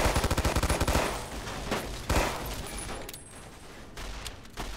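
Rapid automatic gunfire in Fallout: New Vegas aimed at a ghoul's legs: a loud burst of quick shots, then a few single heavy shots and reverberating impacts, no talking.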